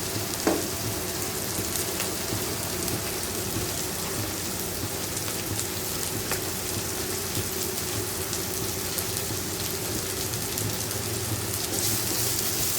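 Onions sauté in a pan for a South Indian vanjaram fish curry, an even, continuous sizzle heard up close with one sharp tick near the start and no voices.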